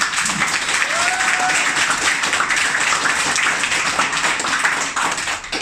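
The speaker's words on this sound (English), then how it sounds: "Come on, clap in." A seminar audience at a leadership training session claps steadily, a dense wash of hands that holds at a constant level for several seconds with no voices standing out.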